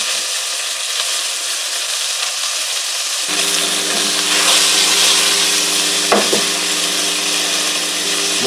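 Fish sticks fry in butter in a pan with a continuous hissing sizzle that swells and grows louder partway through, close and steady, with no talking.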